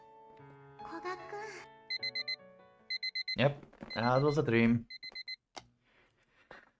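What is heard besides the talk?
alarm clock ringing in the visual novel game Clockwork Ley-Line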